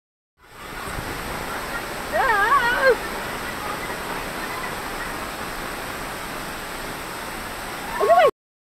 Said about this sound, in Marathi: नावनकोंड हा खूप सेफ धबधबा आहे